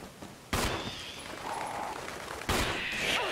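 Two loud, sharp gunshots in the video game Resident Evil, about two seconds apart, each followed by a lingering echoing decay over a quiet background.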